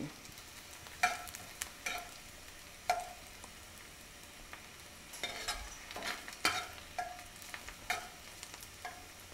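Onions frying over low heat, a soft, steady sizzle broken by occasional scrapes and clicks of a utensil stirring them around the pan, fairly quiet and close.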